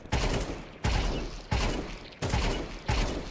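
Five evenly spaced gunshot bursts from Counter-Strike 2 during a move-stop-shoot practice drill, each a sharp loud crack with a short decaying tail, repeating about every 0.7 seconds with no talking.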